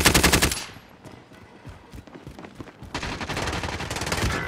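Rapid automatic gunfire in the video game Call of Duty: Modern Warfare, with a loud burst at the start, a quieter patch of scattered distant shots, then sustained dense firing to the end.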